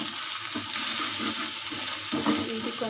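Bitter gourd frying with a pinch of turmeric in a pan, a steady close sizzle and hiss with faint stirring scrapes, no voices.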